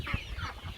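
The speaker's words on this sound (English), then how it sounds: "we have another lot of village chickens that we are just keeping here as home birds" Village chickens kept as home birds on a farm give a few soft, close clucks over a brief, quiet stretch.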